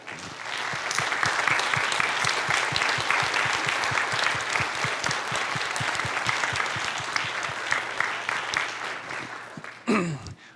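Audience applause at a winter band concert, sustained and fairly loud, with dense clapping throughout for about ten seconds before a brief sharp noise near the end.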